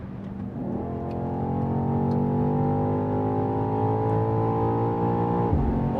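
A 2023 BMW XM SUV accelerates at full throttle on the autobahn, its engine note rising in one smooth, steady, loud pull heard from inside the cabin, then dropping sharply at an upshift near the end.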